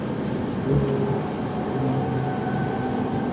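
A Ferrari 488 Pista on a race track drops a gear, its engine note blipping briefly then droning on at a steady pitch, heard from inside the car.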